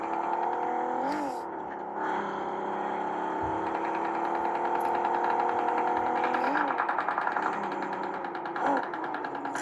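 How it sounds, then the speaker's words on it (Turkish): A steady car engine drones throughout in PUBG Mobile, rising and revving in a few spots, with gunfire-like bursts and game effects layered over it. "Ama araba sesi gelecek onlara."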